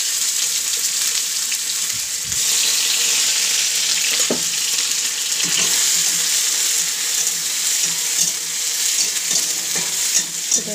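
Garlic and ginger fry in a pan with a constant hissing sizzle, broken by occasional scraping and knocking as a utensil stirs them, heard close and alone.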